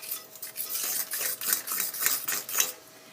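Dry cupcake ingredients with baking powder stirred in a bowl, a soft, quiet rhythmic scraping and rubbing repeated several times, close up with no talking.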